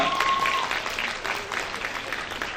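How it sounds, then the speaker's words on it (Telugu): Audience applause at an NTR 100 Years celebration in Perth, Australia: steady clapping from a crowd, fairly close and sustained throughout, with a brief tonal whine near the start. "కొద్దిగా చప్పట్లు గట్టిగా కొట్టండి ప్లీజ్"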